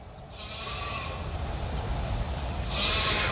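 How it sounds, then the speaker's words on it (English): A goat bleats loudly and continuously from fairly close range, a drawn-out wavering cry over a rough, noisy outdoor background, with a second higher call rising near the end. "I think one of his goats has been got hung again."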